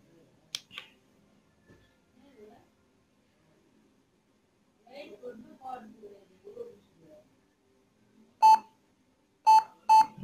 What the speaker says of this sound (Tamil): இது பாருங்க பீப் சவுண்டு